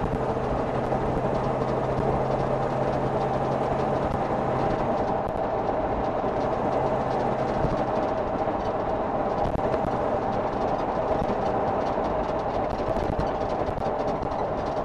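A 1988 Jeep Grand Wagoneer on a road test, its warm engine giving a loud, continuous low drone with road rumble that holds steady throughout, with no speech.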